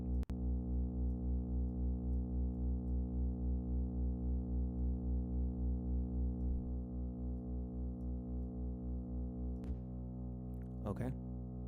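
Synthesized ambient tones from oscillators in Reaktor, a steady harmonic drone with slow pulsing swells and a reverb tail, sustained and alone apart from a brief click and a short chirp near the end.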